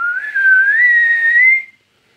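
A person whistles a single sustained, slightly wavering high tone for about a second and a half, loud and close, then stops into silence.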